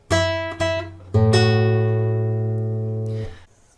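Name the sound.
fingerstyle guitar playing the first phrase of Happy Birthday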